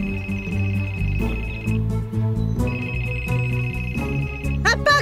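A telephone rings in loud sustained electronic trills, two long bursts separated by a pause, over background music, with a short voice outburst near the end.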